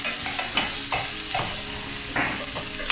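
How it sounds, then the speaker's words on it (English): Onions saute in hot oil and grease, giving a steady, close sizzle broken by repeated scraping stirs of a utensil in the pan. "get some of the oil and the grease on the onions so they'll kind of start sauteing"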